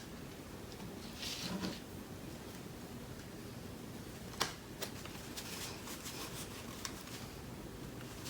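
Playing cards are shuffled quietly and close by, with a soft riffle near the start and a few sharper flicks and snaps later, all without speech.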